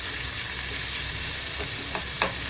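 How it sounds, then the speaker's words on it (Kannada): Bitter gourd frying in oil in a pan, a steady close hiss and sizzle with a few soft stirring clicks near the end. "ಅದನ್ನು ಅದು ಆಯಿಲಲ್ಲಿ ನೀಟಾಗಿ ಫ್ರೈ ಆಗಬೇಕು."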